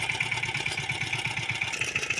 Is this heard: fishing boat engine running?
yes